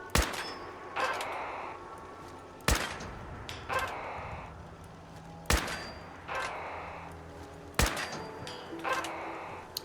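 Gunshots in Fallout 4 striking a working firing-range target rigged with lights, each sharp loud crack followed by a metallic clang and ringing ding, about five evenly spaced hits with short ringing pauses between, no talk.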